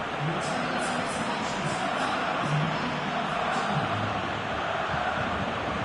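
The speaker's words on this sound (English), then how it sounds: "Crowd calling for him to shoot." Football video game crowd noise, a steady broad roar from a stadium crowd urging a player to shoot, continuous and fairly loud with no distinct chants standing out.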